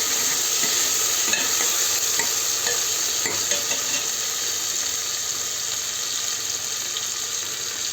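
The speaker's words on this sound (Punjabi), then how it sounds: "ਥੋੜਾ ਜਿਹਾ ਪਿਆਜ਼ ਨੂੰ ਆਪਾਂ ਲਾਲ ਕਰ ਦੇਣੇ ਆ" Chopped onions frying in a pan for green chickpea rice, a continuous bright hiss of sizzling oil with faint stirring clicks, steady and close, with no voices.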